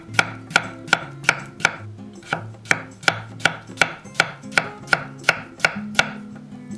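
A knife cuts a halved potato into 0.5 cm slices on a board, about sixteen crisp, evenly spaced chops in a steady rhythm, loud and close with no voices.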